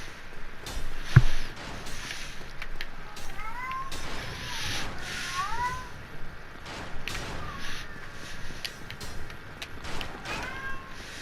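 A household cat lets out a few soft, scattered meows in the background alongside game sounds, with a sharp thump early on and long gaps between the calls.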